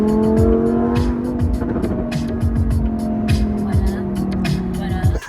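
A Lamborghini Huracán Performante on its stock factory exhaust roars loudly and close, with a sustained engine drone and repeated rasping pulses, while a voice is faintly present underneath.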